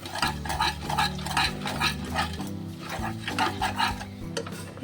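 Besan (gram flour) mixture stirred in a pan with a spoon, repeated rhythmic scraping strokes, close and fairly loud, with a low steady hum underneath, no talking.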